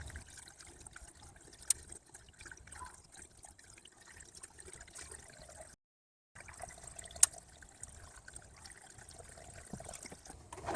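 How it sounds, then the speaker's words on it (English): Engine coolant pouring and trickling steadily through a funnel into a 5.3L V8 Chevy Suburban engine, faint and close, with a brief pause midway and a couple of small clicks. "I'll be able to get the coolant in there without much hassle to prime the water pump"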